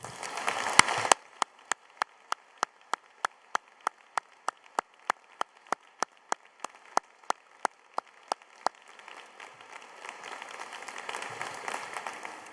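At a UCL graduation ceremony honoring a new honorary fellow, a short burst of applause quickly thins into a long run of evenly spaced single claps, sharp and regular, before fading into a low room murmur.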